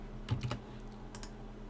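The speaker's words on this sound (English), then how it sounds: "in the actual command window, you want to type cd" Keys clacking on a computer keyboard as a command is typed in a command window, a short burst of about four quick strokes followed by two lighter taps, close and fairly quiet over a steady low hum.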